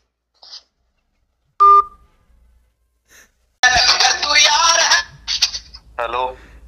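A few short electronic tones sound alone, followed by a burst of loud, distorted speech and then a voice talking.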